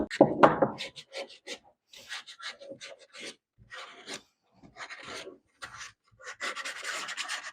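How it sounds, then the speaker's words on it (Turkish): Hand sanding of a small wooden tealight holder: a dry, raspy rubbing in short irregular strokes, close and fairly quiet, with pauses between passes and a steadier run of scraping at the end. "Burayı da son bir zımparayla alayım."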